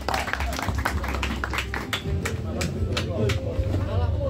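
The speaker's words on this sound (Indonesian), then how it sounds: "Ya, tepuk tangan untuk kita semua." Audience applause at a national bonsai exhibition judging session in Wonosobo: a room full of people clapping, with scattered sharp claps rising over a busy crowd murmur.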